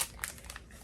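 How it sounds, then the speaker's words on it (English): Miniature Mini Brands book packaging being unwrapped, giving brief crinkling plastic rustles with one sharper crackle near the start, close and quiet, with no voices. "I'm just gonna unbox or unwrap some of these"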